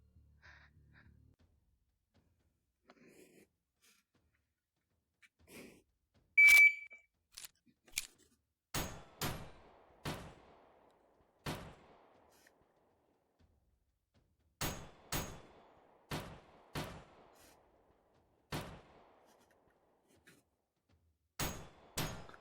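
M9 Beretta Chrome pistol fired in the VR gun range game P1441VR, a series of sharp, isolated gunshot cracks in irregular bursts, each decaying quickly, against near silence.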